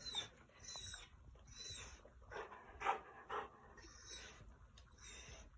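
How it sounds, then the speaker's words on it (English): An excited Labrador dog whimpering and panting while playing with a toy indoors, a series of soft, breathy pants and short high whines coming in irregular bursts, fairly faint and close. "when you hear him whimpering, he's not upset"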